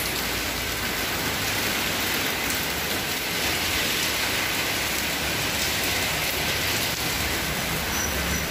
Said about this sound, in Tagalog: Guys, sobrang lakas ng ulan.